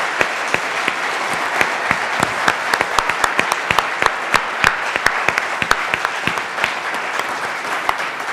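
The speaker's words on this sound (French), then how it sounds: "vous pouvez vraiment tous les applaudir parce qu'ils ont fait un travail fantastique." A conference audience claps as dense, sustained applause from a sizeable crowd, steady and fairly loud with sharp individual claps standing out throughout.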